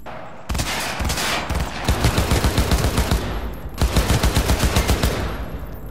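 Automatic gunfire from the video game Cyberpunk 2077 fills the scene with loud, rapid bursts of shots. Two long volleys are split by a short pause, and no one speaks.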